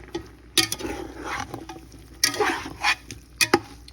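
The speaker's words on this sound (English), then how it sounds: "And then I'm going to stir that in really well." A spoon stirring flour into a thick stew in a pot, with scraping and scrubbing strokes in irregular bursts, close and fairly loud, no talking.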